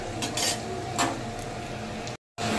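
Onions frying in a pan on a gas stove, a steady soft sizzle with a few light utensil clinks and scrapes, close by and unbroken apart from a brief cut near the end.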